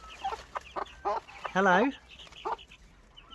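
A broody hen with her chicks clucking on a farm, a close series of short clucks and a longer wavering call, with a person briefly speaking.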